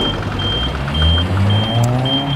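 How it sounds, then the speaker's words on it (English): An Athena bi-leveling scissor lift emits repeated high electronic warning beeps at a steady rhythm over a low motor hum. "The machine is now beeping at us"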